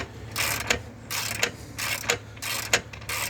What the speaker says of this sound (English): So we're going to go ahead and just finish getting this bolt out.